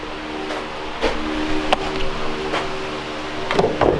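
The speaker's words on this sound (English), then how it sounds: "That was a crank over. That turned the engine over right there." A BMW engine cranks over on its starter in an enclosed space, a steady mechanical whir with several sharp clicks and knocks, loud and close, without catching or firing.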